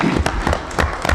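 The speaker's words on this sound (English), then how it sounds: "Can we give him a round of applause and welcome him?" A session hall crowd claps in a round of applause for a guest, a brief burst of dense, close handclaps.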